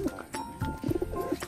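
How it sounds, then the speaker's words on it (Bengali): Domestic pigeons coo softly at close range in a few short, throaty bursts, with little else around. "এগুলো কিন্তু সব আমার বাড়ির পুরনো পায়রা।"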